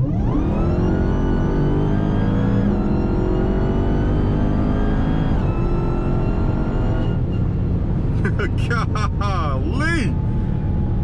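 An 1100-horsepower Dodge Charger Redeye Widebody on drag radials accelerates hard from 60 to 130, its engine roaring loud and close from inside the cabin with rising pitch through gear shifts, then tailing off as a voice exclaims over it.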